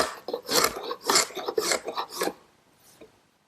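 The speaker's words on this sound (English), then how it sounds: "the excess is removed just using a hand scraper" A hand scraper rasps dried excess glue off a wooden tabletop in about five quick, close scraping strokes, then a faint final scrape as it fades out. No one speaks.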